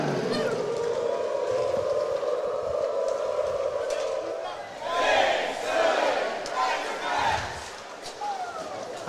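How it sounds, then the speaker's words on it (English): A hockey arena crowd at an ACHA college game between Arkansas and Nebraska bellows a sustained, slightly out-of-sync hog call, swelling into a louder collective roar midway over the building's echoing ambience. "A good starting hog call."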